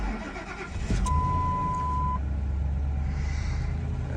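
A 2001 Ford F-150 truck with a 5.4 engine cold-starts on a 26-degree morning, a brief crank followed by a steady, loud, close idle rumble that holds to the end, with no talking.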